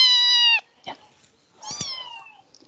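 A cat meows twice, with a clear, loud, drawn-out first meow, a small rustle, and then a second, longer, wavering meow that trails off.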